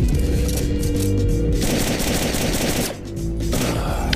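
Rapid, sustained automatic gunfire in the video game Splinter Cell, loud and dense with overlapping bursts and game sounds, briefly easing near the end.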